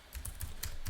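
Rapid clicking of typing on a computer keyboard, with about five distinct keystroke bursts spread evenly across a second, close and fairly loud, no voices.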